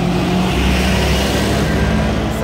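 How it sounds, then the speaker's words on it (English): Steady roadside traffic noise, a loud continuous rumble of passing cars and engines that fills the whole stretch without pause and with no voices. "I'm so sorry for the noise, I'm just like on the road."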